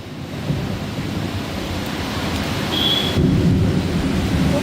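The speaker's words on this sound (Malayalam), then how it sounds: "ഇടിമിന്നലോട് കൂടിയ മഴയാണ് നഗരത്തിൽ പെയ്യുന്നത്." Steady heavy rain roars close by on a road in Kozhikode city, with deep rumbling thunder swelling toward the end; no voices.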